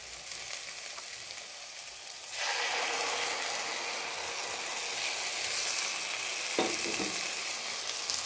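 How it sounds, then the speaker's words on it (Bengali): A sauce of soy, chili sauce, tomato ketchup and vinegar is poured into a hot pan with fish, bursting into a louder, brighter sizzle that then holds steady with a few scraping stirs, close and continuous. "আর এই সসটা আমি এর মধ্যে দিয়ে দেবো।"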